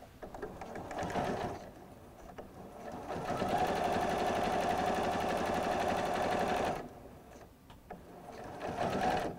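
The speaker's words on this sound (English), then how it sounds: "be sure you backstitch right there at the very end, so that it's going to help secure that pocket a little bit further" A sewing machine runs steady stitching on a cosmetic wrap pocket, including a short backstitch at the end to secure it; a whirring hum rises for several seconds, pauses, then resumes briefly with soft voices between bursts.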